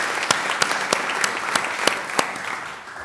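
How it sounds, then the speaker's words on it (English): An audience at a South Dakota Board of Regents meeting applauds student federation members, a dense, sustained round of clapping with a few loud close claps popping out of the steady patter. "Please give all these students a round of applause as well."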